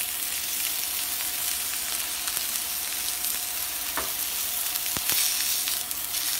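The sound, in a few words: chicken sizzling in olive oil in a pan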